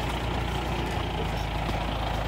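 A large tractor's engine drones steadily in the open while planting potatoes in a field, a low continuous diesel rumble with no talk over it.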